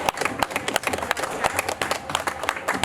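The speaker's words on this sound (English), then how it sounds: "Give yourselves a round of applause." A small audience claps at an event, sharp distinct handclaps in an uneven rhythm rather than a dense wash, fairly close and moderately loud.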